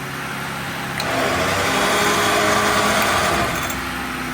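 A WARN ZEON XD winch motor on a Jeep winching in, with a steady, close electric whir that rises slightly in strength after the first second and holds evenly, no talking.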